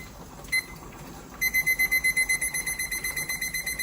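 A kitchen timer goes off during pressure canning of green beans, with a single short beep followed by a long run of rapid, regular beeps that ring out clearly and then stop.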